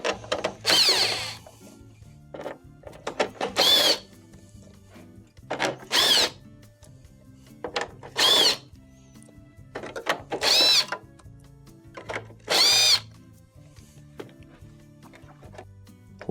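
A power drill backs quarter-inch screws out of the perimeter and middle bracket of a GE dryer's main control panel. It comes in about six short, close whirring bursts separated by quiet pauses.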